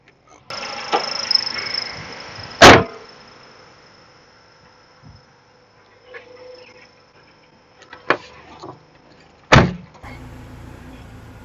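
A car hood slams shut with a sharp, loud thud in a quiet garage, followed later by another solid slam. Softer clicks and knocks fall in between, over a faint steady hiss.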